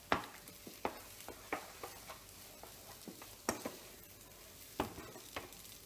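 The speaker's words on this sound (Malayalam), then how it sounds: "ഇനി അടുത്തതായിട്ട് പുറത്ത് വെച്ചിരിക്കുന്ന കശുവണ്ടി, കിസ്മിസ്, തേങ്ങ, ചെറിയ ചെറുതായിട്ട് എണ്ണ എല്ലാം ചേർത്ത് ഇളക്കി വേദിപ്പിക്കാം" Papaya halwa with cashews, raisins, coconut and a little oil is stirred in a pan. A spoon scrapes and taps in an uneven rhythm over a faint sizzle, up close, with no talking.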